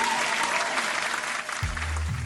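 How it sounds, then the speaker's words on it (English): Dense applause from a crowd in the video game Vampire Therapist, sustained and even, with a low tone entering near the end. "Everybody, let's give a good clap for her."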